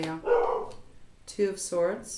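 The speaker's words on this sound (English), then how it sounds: "She's barking at her neighbors" A female dog barks at the neighbors in a few short, sharp bursts, close by and mixed in with a person talking.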